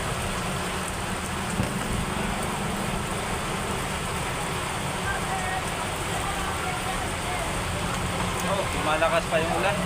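Steady heavy rain pours continuously, a dense broadband hiss with no breaks, loud and close throughout.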